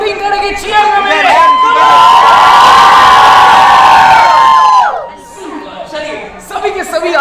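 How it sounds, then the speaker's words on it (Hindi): A crowd at a haldi carnival hoots and cheers loudly, a long sustained whooping swell for several seconds amid shouts and chatter before it dies down. "एक बार अपने हाथों को ऊपर करके जोर से हूटिंग करेंगे, चीयर करेंगे।"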